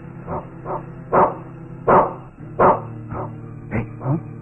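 A police dog in a Tamil film barks repeatedly, about eight sharp, evenly spaced woofs at close range and moderate loudness, with no voices over them.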